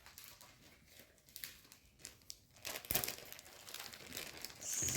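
Cross-stitch fabric in plastic packaging is handled and packed up, giving close, irregular crinkling and rustling that grows louder and denser toward the end.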